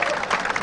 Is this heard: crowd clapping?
yes